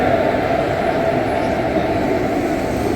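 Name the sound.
Janasadharan Express train at Danapur railway station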